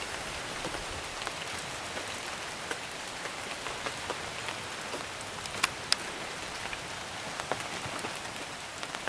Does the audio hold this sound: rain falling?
yes